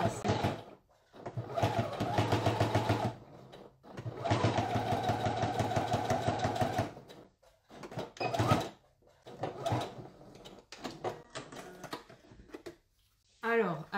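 A sewing machine stitches a line of topstitching on a leather zip pouch, running in bursts of rapid rhythmic clatter separated by brief pauses, with a voice talking in the gaps.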